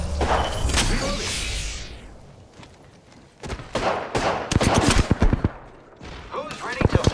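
Rapid video game gunfire rattles in repeated loud bursts, separated by a sweeping whoosh and short quieter gaps, with in-game voice callouts mixed among the shots.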